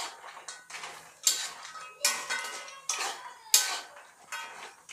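Jaggery-coated banana chips are stirred in a pan, producing a rhythmic series of loud scraping, clattering strokes, about one every second, close and with no talk.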